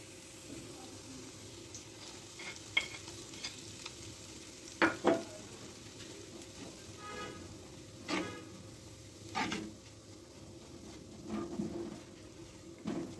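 Flour (maida) is stirred into a pan for a white sauce: soft scraping strokes and a faint sizzle come at irregular intervals, with occasional light clatter and watery sounds in a quiet kitchen.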